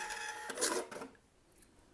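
An Xprinter XP-Q801K thermal receipt printer gives a fast whirring feed for about a second, ending in a brief burst as the paper is cut, then fading to quiet room tone.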